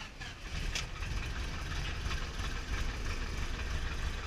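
A 1961 Piper Colt light aircraft's piston engine catches and settles into a steady, loud, rumbling idle close by, running alone without talk.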